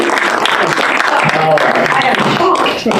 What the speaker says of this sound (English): let's big round of applause for Eleni Gabre-Madhin